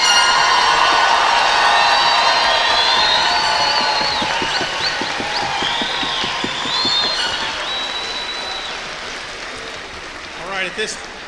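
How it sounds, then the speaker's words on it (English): A commencement crowd bursts into loud, sustained applause and cheering for the graduates, with whistles and shouts riding over the clapping before it gradually fades toward the end. "give a big round of applause, make some noise for our graduates"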